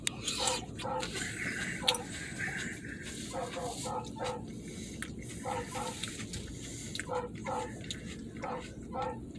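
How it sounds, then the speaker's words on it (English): A dog barks in short, spaced bursts outdoors on a farm at dusk as a storm approaches, moderately distant and partly under ambient noise and some background speech. "What's that dog barking at?"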